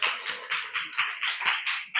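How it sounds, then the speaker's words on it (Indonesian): Students in a classroom clap for a classmate in a brisk, even rhythm of about eight sharp, close claps in quick succession. "Tepuk tangan buat Mas siapa?"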